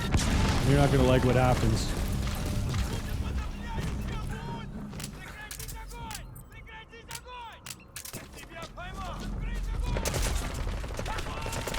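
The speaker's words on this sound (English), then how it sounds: "You're shooting mortars at me?" Mortar rounds fall in Metal Gear Solid V, a rolling mix of distant booms and rapid gunfire that runs steadily beneath a voice.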